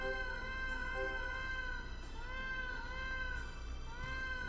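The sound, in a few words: Norwegian cat meowing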